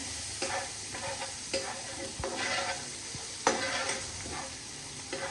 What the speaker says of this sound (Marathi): हळद घालून व्यवस्थित मिक्स करून घेऊयात.